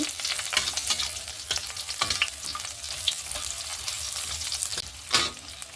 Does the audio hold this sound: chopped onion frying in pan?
yes